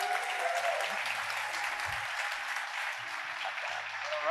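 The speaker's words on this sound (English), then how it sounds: "If you want to give it a round of applause." An audience at a California economic summit gives steady, continuous applause that holds at an even level for the whole stretch, moderately distant and without speech.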